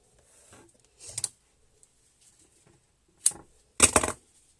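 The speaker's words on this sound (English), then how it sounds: "Always do a very long diagonal cut." Shears snipping rose stems on a long diagonal for a floral foam arrangement, a handful of sharp, close cuts in separate bursts with quiet rustling between them.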